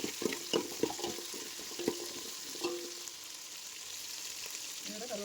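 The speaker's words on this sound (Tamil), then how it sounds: "எனக்கு இந்த மாதிரி வெங்காயம் வதக்கிறதுலாம் ரொம்ப பிடிக்குங்க. இந்த கரண்டியை வச்சு கிண்டிக்கிட்டே இருக்கிறது ஆசையாக இருக்கும் கிண்டுறதுக்கு" Onions sauté in a pan while a ladle stirs them, with a soft sizzle under a series of sharp scraping clinks early on that thin out later, close and fairly quiet.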